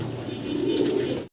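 A pair of large Jacobin pigeons for sale coo in a low, continuous, close murmur that swells slightly before cutting off abruptly, with no one speaking.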